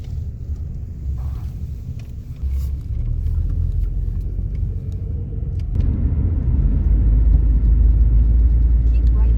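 A 1992 Volvo 240 engine idles just after starting, a loud, steady low rumble that grows heavier partway through and keeps droning close by.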